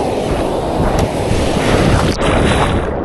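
Ocean waves wash around a small boat off Canimog Island, a loud, rushing surge mixed with heavy wind buffeting the microphone, continuous with no voices.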